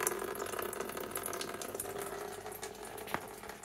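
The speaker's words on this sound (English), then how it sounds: "So let's drain the boiler." Water drains from a Vaillant Ecotec Pro boiler with an F75 fault, a steady close rushing and trickling flow with a faint mechanical hum beneath and a single small knock near the end.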